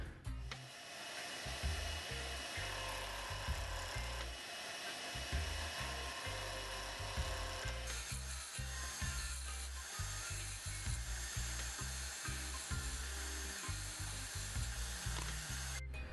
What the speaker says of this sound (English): I've chopped down pieces of Zebrano wood and drilled it into a faceplate, and I'm just going to turn this until it's round.